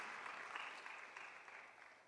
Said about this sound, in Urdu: تالیاں بجا دیں اپنے لیے کہ آپ کی معافی ہو گئی ہے